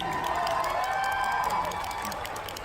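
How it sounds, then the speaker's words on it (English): Audience at a Special Olympics women's basketball event cheering and applauding, a steady loud wash of clapping and shouts sustained throughout, easing slightly at the end. "Yeah, you can cheer for that."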